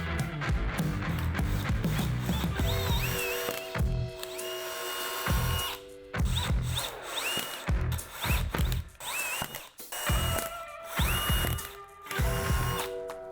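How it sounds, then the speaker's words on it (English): A power drill with a 1/4-inch bit whirs in repeated bursts, loud and close, with brief pauses and clicking mechanical noises between runs as it bores through plastic. "use my 1/4-inch drill bit to get through the plastic"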